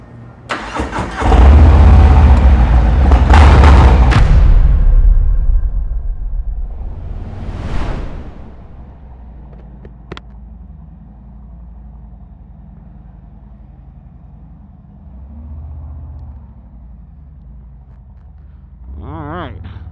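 A customized 2023 Harley-Davidson Street Bob fires up with a loud, deep start and brief revving, then settles into a lower rumbling idle before picking up again near the end, with no talking.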